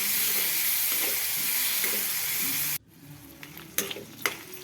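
Raw tomato chutney frying in oil in a pan with stirring, a loud steady sizzle for the first few seconds that cuts off abruptly into quieter scraping and a few sharp clinks of the spoon against the pan.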